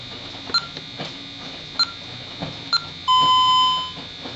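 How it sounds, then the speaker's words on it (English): A Honeywell Vista 20P alarm keypad beeps three times in sharp, evenly spaced chirps after a factory reset, followed by one longer steady tone, all close and clear in a quiet room. "Three beeps, that's all you'll get."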